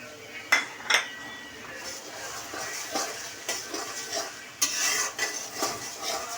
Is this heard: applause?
no